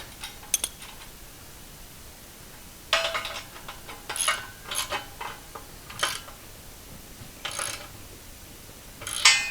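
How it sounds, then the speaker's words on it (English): Separate bursts of ratcheting clicks come as 19 mm bolts and nuts are tightened on a 20-ton floor shop press. The turns arrive in irregular bursts with quiet gaps between them. "this is the good time to now tighten it up. 19 millimeter bolts and nuts."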